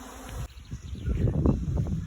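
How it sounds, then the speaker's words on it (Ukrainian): A dense, steady buzz of many bees hums throughout, with faint rustling and no talking. "Ось вони. Це все бджоли."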